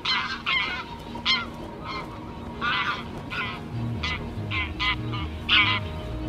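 Geese honk repeatedly in loud, overlapping calls, close by, with a low steady hum underneath.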